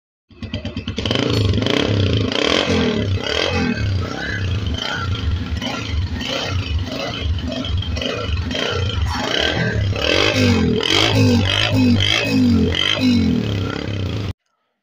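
A Honda 125 Deluxe motorcycle engine starts and runs loud and close, a rapid, steady single-cylinder putter with some mechanical clatter, holding for over a dozen seconds before cutting off abruptly.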